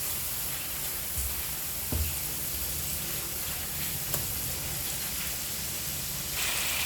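Spice paste of turmeric, ginger and garlic sizzles in hot oil in a pan while being fried for potol bhaja, a steady close hiss with a few faint clinks.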